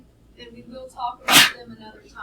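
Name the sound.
sneeze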